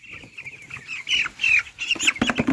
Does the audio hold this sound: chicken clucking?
yes